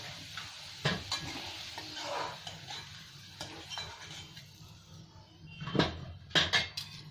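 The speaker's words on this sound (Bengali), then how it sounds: "এই তেলের মধ্যে একটু গরম মশলা দিয়ে দেবো" Garam masala sizzles in hot oil left from frying potatoes for a curd fish curry, heard as a faint sizzle broken by scattered utensil clinks and scrapes, close and quiet.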